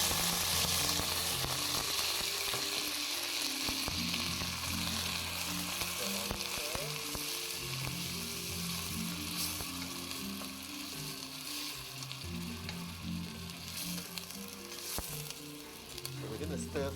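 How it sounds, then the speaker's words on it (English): Malaysian rendang spice paste stir-fries in hot oil with chicken preparation, a loud, continuous close sizzle with intermittent stirring scrapes, while someone talks over it at times. "We're going to stir fry them until the oil is out, right?"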